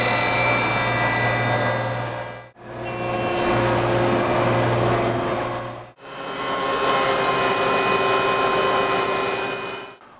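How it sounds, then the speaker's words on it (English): Power tools milling a wood board in preparation for resawing laminations for a curved table apron: three loud sustained whining passes of a machine, each cutting off abruptly with brief silences between, no talk. "So I'm going to start milling this up in preparation to start cutting those laminations."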